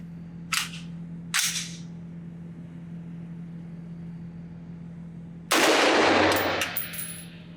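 A 5.56 rifle fitted with an OSS HX-QD Magnum Ti suppressor fires at an outdoor range. Two sharp muffled reports come close together, then a louder blast with a longer, hissing decay follows after a pause, all over a steady low hum.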